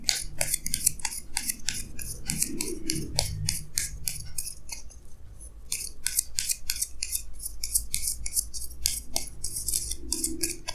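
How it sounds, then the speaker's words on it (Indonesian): Tarot cards are laid down one after another on a table, making a dense run of crisp, close clicks and light papery taps with soft rustling between them. No one speaks. "Jadi di sini saya akan taruh lagi 2 kartu tambahan"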